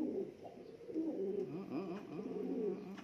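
Pigeons coo steadily in low, warbling phrases while fighting, the calls repeating close by without pause.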